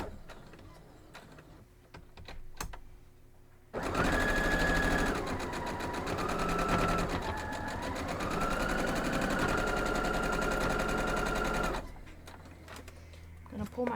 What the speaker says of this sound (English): So we're just going to stitch down through it.